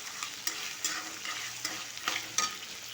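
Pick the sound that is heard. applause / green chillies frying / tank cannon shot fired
green chillies frying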